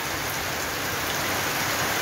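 Steady heavy rain falls on a rainy day in Westmoreland, Jamaica, a dense, even hiss with close patter on surfaces and no pauses or speech.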